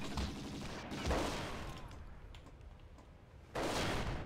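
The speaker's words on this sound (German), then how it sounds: "130 Schuss mit der Pistole." Pistol fire in the video game XIII: bursts of sharp shots around the start and again near the end, with a dimmer stretch of game ambience in between.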